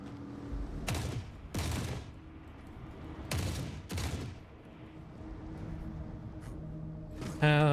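Gunfire in the video game Forever Winter: four loud, broadband bursts in two close pairs, each a short stutter of shots, over a steady low game ambience with a brief tonal sound at the end.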